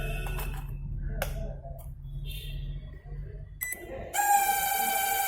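The faulty fan motor of an LG MS-2342AE microwave oven gives a steady low hum with faint clicks and rattles, ending in a sudden bright electronic tone.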